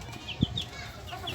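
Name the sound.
chickens clucking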